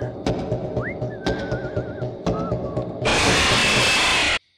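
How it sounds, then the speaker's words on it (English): Steamboat Willie whistles a wavering, sliding tune in a horror video game, close and clear, over sharp percussive knocks and a dull background rumble, before a loud hissing burst cuts in. "I do like how he whistles and does kind of give himself away."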